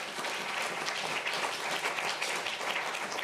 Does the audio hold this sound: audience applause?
yes